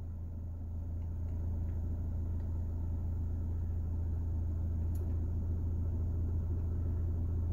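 A car engine runs steadily while the clutch is eased out on a hill, giving a low, continuous rumble close by with no talking.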